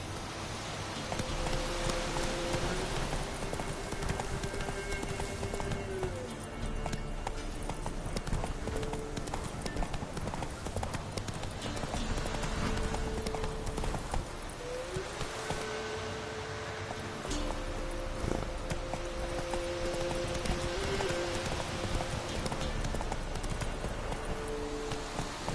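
Hoofbeats of Roach, Geralt's horse in The Witcher 3: Wild Hunt, galloping in a steady clip-clop rhythm through the whole stretch, over continuous game ambience and music.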